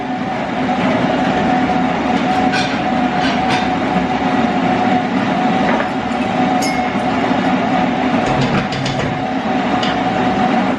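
A coffee maker runs with a loud, steady mechanical rumble and hum, broken by occasional faint clicks, with no one talking.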